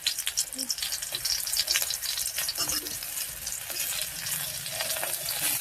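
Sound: lightly frying flattened rice (chira) in a pan

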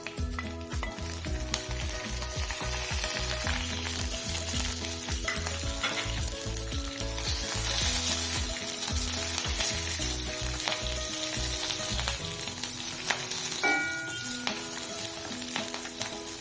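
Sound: fenugreek, green chillies and curry leaves sizzling in oil

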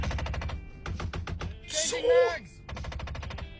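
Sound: failing window actuators making gunfire-like clicking

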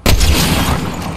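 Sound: sniper rifle gunshot in Fortnite video game

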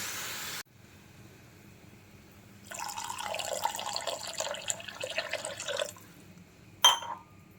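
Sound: pouring buttermilk for a rice flour dish

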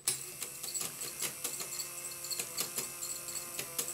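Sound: gymnast automaton mechanism running

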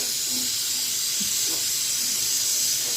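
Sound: sautéing food in a pan until browned

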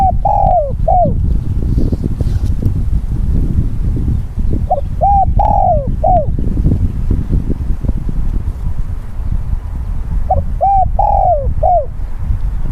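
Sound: wild dove cooing

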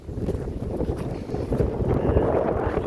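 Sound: strong wind blowing

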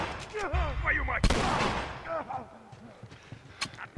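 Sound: gunshots in video game The Last of Us

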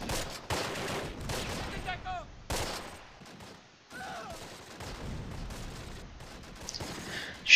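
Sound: MG42 machine gun fire in the video game Close Combat: Last Stand Arnhem

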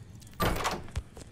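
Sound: door opening in video game Roblox Doors

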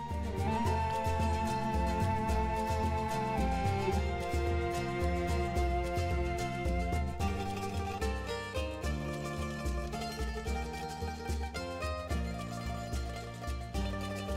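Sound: Visions of Mana video game music with lute and flute

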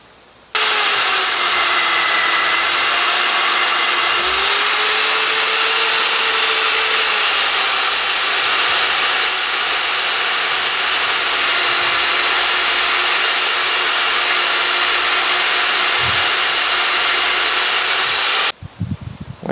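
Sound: Euroboor ECO 50S+ mag drill drilling with 4-inch annular bit

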